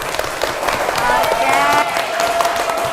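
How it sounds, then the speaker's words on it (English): A classroom of students applauds during a microteaching lesson, a dense, steady clatter of many hands clapping close by with children's voices mixed in throughout. "Give applause to your class."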